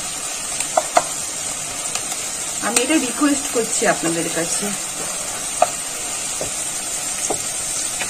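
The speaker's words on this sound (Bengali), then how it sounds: "আর এটা একটু ভাজা ভাজা হোক।" Bitter gourd pakora with mustard sizzles steadily in hot oil, a constant close hiss running the whole time, while someone talks over it in the middle.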